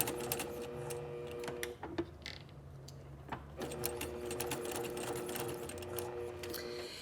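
A sewing machine runs in steady bursts while back stitching bias binding onto a garment neckline at a quarter-inch seam allowance, whirring continuously, pausing briefly near two seconds, then resuming close and clear with no talk.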